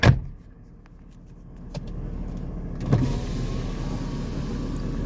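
The electric windows of a 1995 Mercedes E300 run from inside the car. A click opens a steady motor whine that goes on for several seconds, with a second click partway through, close by and fairly quiet.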